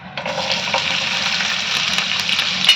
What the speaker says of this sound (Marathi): तेल तापलं आहे, थोडंसं जिरं टाकते फोडणीला.